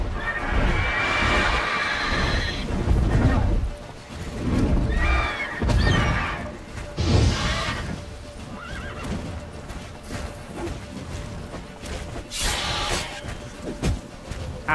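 Roach the horse in The Witcher 3 neighing and whinnying loudly several times, mixed with clip-clopping hooves and thuds, near and energetic.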